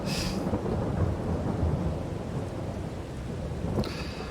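Heavy rain pours steadily in Farming Simulator 22 while thunder rumbles low throughout, with a brighter crack near the end; no voices.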